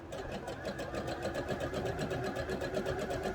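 Sewing machine running steadily as it stitches the seams of wrestling tights, a close, continuous rapid mechanical whirr with an even pulsing rhythm.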